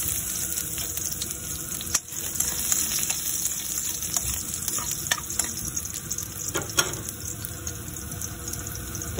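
Garlic sautés in hot oil with ground pork over a strong flame, giving a loud, continuous close sizzle with scraping stir strokes and a few crackling pops, and no talk.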